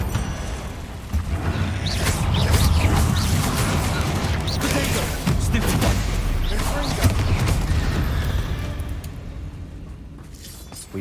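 Confringo fire-blast spell explosions in the video game Hogwarts Legacy, cast in combat against spiders: repeated loud booming bursts and crackling impacts packed close together over a dense, continuous battle din, easing off near the end.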